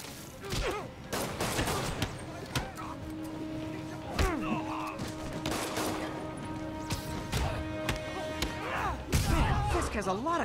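Gunfire and combat impacts in the Spider-Man PS4 video game, with sharp cracks, thuds and crashes scattered in irregular bursts under frequent talking and in-game voices.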